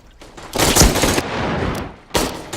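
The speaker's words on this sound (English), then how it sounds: "Please don't shoot me with your M4." M4 rifle fire in a first-person shooter game: loud, close bursts of rapid automatic shots, a longer sustained volley followed by a brief pause and another short burst.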